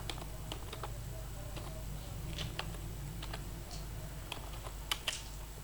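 Keystrokes on a computer keyboard, sparse irregular clicks and taps at close range over a steady low hum, with no speech.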